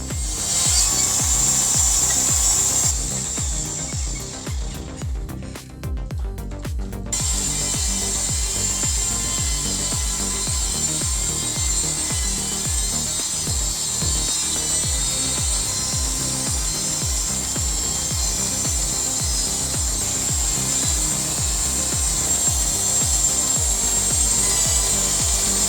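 A homemade bandsaw cuts through wood with a loud, rhythmic rasping and ratcheting drone, and a brief lull interrupts the steady cutting early on.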